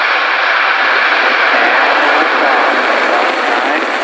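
SpaceX rocket engines igniting at the launch of a Korean reconnaissance satellite, a loud continuous broadband roar that fills the whole clip, steady and unbroken.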